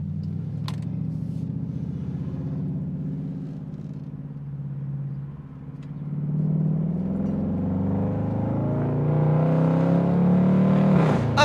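Dodge Durango RT with a 345 Hemi engine accelerating, a steady low rumble that builds and climbs in pitch, briefly dips as it upshifts, then pulls harder and louder.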